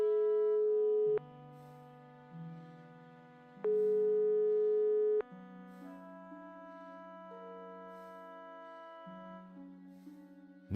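Phone tones from the video game Broken Sword 5: The Serpent's Curse, a quiet electronic sequence of sustained pitched beeps that shift in pitch, with two longer louder tones, alone with no voices.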